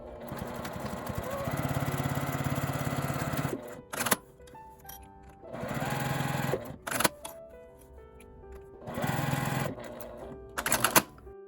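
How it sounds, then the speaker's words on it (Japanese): A sewing machine stitches basting and a center line on a zippered pouch with a lid, running in three long steady bursts of whirring, each ending with short clicks and clunks between runs. "仮縫いと真ん中の線を縫います。"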